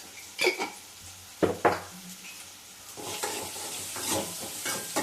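Onions frying in a pan with mustard seeds and salt, a steady sizzle broken by a few sharp scrapes of a spoon stirring against the pan, heard up close with no talking.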